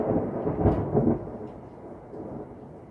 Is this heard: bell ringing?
no